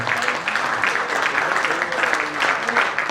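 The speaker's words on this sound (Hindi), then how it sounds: "पर तालियां 15 ही बजी" Audience at a Hindi poetry recital breaks into applause, a dense, steady wash of clapping that fills the whole moment without pause.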